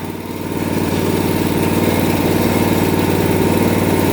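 A Honda HS724 snowblower engine runs with its transmission engaged, a loud, close, steady mid-pitched drone that swells slightly at the start and then holds even.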